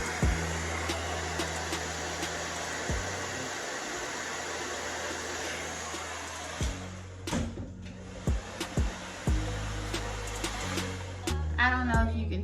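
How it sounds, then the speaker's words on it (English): A hair dryer runs steadily at close range to dry weave glue for a quick weave, a constant whooshing hum that cuts off and restarts several times, with brief clicks and handling noises in the gaps. "And then make sure that you use the dryer."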